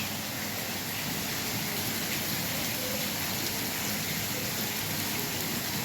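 Steady, dense rain falls continuously, a loud unbroken hiss of drops on surfaces with no pauses or voices.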